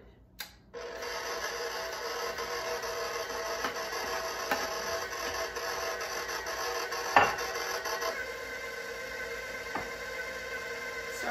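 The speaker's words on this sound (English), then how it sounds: "Off with your mixer on a low speed and then turn it up a little bit higher" An electric mixer whirs steadily on low speed through spiced zucchini bread batter, a continuous even hum starting after a brief click, with a light knock midway and a slight drop near the end.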